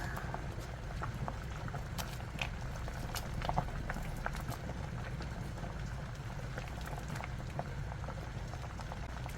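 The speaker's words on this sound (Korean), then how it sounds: "된장국이 보글보글보글보글보글 끓고 있습니다" Mushroom doenjang soup boiling in a pot, a steady soft bubbling with irregular small pops and plops throughout, fairly quiet and heard alone.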